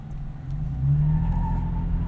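Engine of a 2022 Toyota 4Runner TRD Pro working under throttle while crawling off-road, a steady low drone that swells slightly midway, close and continuous, with faint talk beneath.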